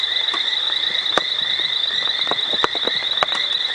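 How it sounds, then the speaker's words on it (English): Tree frogs and reed frogs call beside a babbling river at sunrise on an African reserve, a dense unbroken high-pitched chorus punctuated by several sharp clicking calls, loud and continuous with no voices. "And the tree frogs as well."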